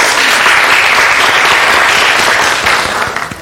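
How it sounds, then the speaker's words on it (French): Studio audience applauding for a guest named Lorraine on a French café-themed game show, steady dense clapping close and loud throughout, thinning slightly at the end. "Applaudissements pour Lorraine."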